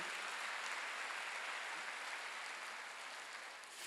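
Applause from a church congregation at a Wednesday worship service, a dense, even wash of many hands clapping that holds steady and eases slightly toward the end, with no voices over it.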